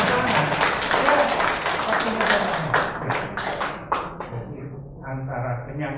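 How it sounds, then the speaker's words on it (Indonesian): A crowd at a Golkar party send-off event for legislative candidates in East Java claps in scattered, uneven bursts, moderately loud and fading toward the end, with some talk mixed in. "Tepuk tangan ya, sekarang boleh."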